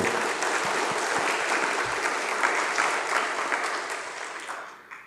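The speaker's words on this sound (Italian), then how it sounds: "un applauso per lei" Steady applause from a seated audience at an Italian church-law lecture on the apostolic constitution Praedicate Evangelium, sustained and fairly loud throughout before fading slightly at the end.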